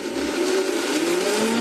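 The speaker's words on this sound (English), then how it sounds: "when you slow down the blender, some of it will come back down, back up." A blender whirs steadily as it purées basil pesto sauce, its motor pitch rising slightly as it runs, close and alone.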